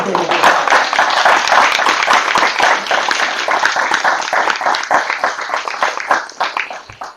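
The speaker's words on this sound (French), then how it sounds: "On peut donner les applaudissements de la fin d'AG." Applause from attendees closing the general assembly of the FRCUMA Hauts de France farm machinery cooperative federation, a dense, steady wash of clapping lasting several seconds before thinning out near the end.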